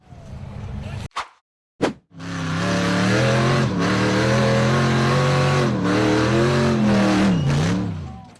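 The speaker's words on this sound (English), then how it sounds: "The purple buggy accelerated up the rough, rocky slope" Purple off-road buggy engine accelerating up a rough, rocky slope, with a couple of short bursts and a pause, then a sustained loud revving roar that rises and wavers in pitch before easing off at the end.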